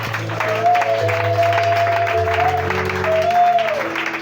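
A church congregation claps and cheers in acclamation, the steady crowd applause mixed with loud voices and sustained singing or organ-like tones, close and full throughout.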